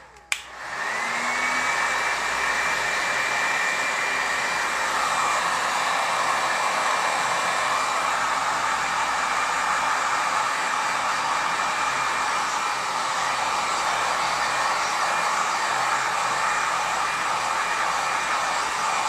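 Hair dryer set to maximum, drying rice paper for cake decorating, switched on with a click and then roaring continuously, loud and close, with a constant airy hiss and whine throughout.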